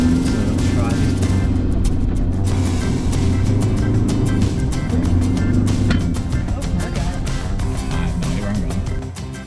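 A 4x4 vehicle driving along a sandy beach track, its engine droning steadily and loudly up close under continuous rumble and rattling, with people talking over it.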